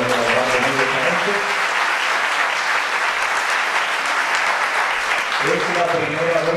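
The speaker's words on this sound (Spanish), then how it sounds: "pido un fuerte aplauso" Loud, dense applause from a concert audience for a singer fills the whole stretch, steady throughout, with voices and music-like tones rising underneath at the start and end.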